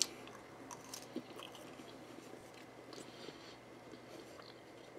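Close, wet chewing and soft crunching of Arby's curly fries poutine with cheese curds, steady mouth noises throughout with a few sharper bites, no talking.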